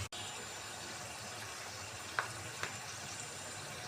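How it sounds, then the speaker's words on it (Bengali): Onion paste frying in a pan, a steady, faint sizzle under a constant hiss, with a couple of light taps of stirring. "একটু পেঁয়াজ বাটা দিয়ে একটু ভেজে নিছিলাম"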